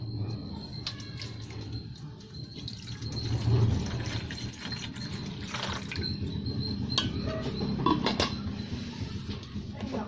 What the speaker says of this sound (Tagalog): Buhusan na natin ng tubig.